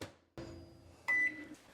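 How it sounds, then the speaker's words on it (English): A microwave hums quietly, then a single clear electronic beep sounds near the end as it finishes. "the microwave went off"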